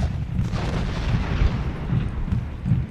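Deep booming rumbles of cannon fire in an American Civil War strategy game battle at Gettysburg roll continuously, dense low thuds layered over a steady battle din with no voices.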